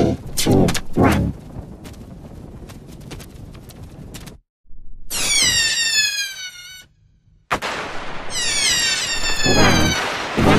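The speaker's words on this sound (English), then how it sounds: "The fireworks will go off in 5, 4, 3, 2, 1." Bootleg fireworks going off outdoors: a rapid series of sharp close bangs and crackles, then loud whistling rockets screaming upward with bursts, separated by short silent gaps.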